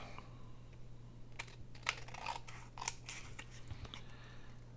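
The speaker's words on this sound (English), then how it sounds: "Let's go ahead and trim this off and then we can see if it is." Scissors snip through coffee-dyed paper for a junk-mail craft project: a few faint, sharp cuts with quiet pauses between them over a low steady hum.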